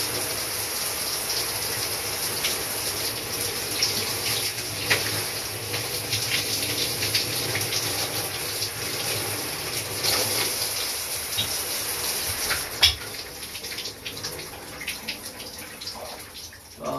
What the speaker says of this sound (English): Freezing cold shower.